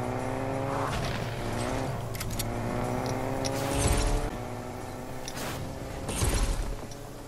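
A car in a banana taxi video game drives off with a sustained engine drone and rising revs, its gear-like tones stepping upward, loud and close with brief surges near the end.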